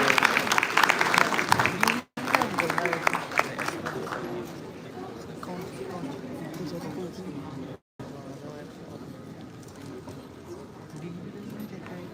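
An audience at the TICC Luminescence 2023 event claps to welcome a speaker to the stage, loud at first, then fading into softer scattered applause mixed with crowd murmur and talk, with two brief dropouts.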